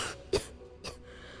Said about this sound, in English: That cough doesn't sound good at all.